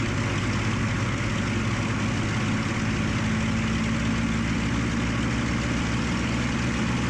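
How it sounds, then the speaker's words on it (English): The engine of Spitfire Mk IX ML407 roars steadily and loudly in flight, a constant, dense drone with a deep throbbing tone and no pauses or talk. "So I'm going to increase the engine power."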